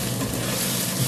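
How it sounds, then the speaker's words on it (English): Eggs fry in a pan with a close, steady hiss and sizzle. The crackling is dense and continuous for about a second, with no voice over it. "Alright, so we got our eggs cooking."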